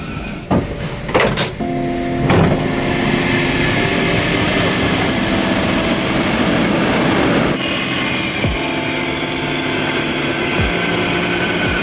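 A OUIGO high-speed train pulling into Angers Saint-Laud station: a steady, loud rumble of wheels on rail with high tonal whine and brake squeal, several sharp knocks early on, continuing under no talk.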